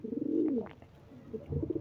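Pigeons coo in a pigeon loft, the deep, rolling calls close and fairly loud, with one long coo swelling and fading before more cooing starts up.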